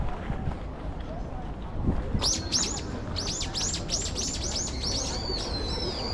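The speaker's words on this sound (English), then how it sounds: "What's that noise? Is there an animal? Some sort of... Oh, it's that bird." A bird in Tokyo, Japan, sings a series of bright, repeated chirping calls, clear above a steady outdoor rumble of background noise.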